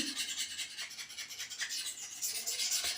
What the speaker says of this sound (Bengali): ছুরিটা একটু ঘষে নিচ্ছি ধার করে নিচ্ছি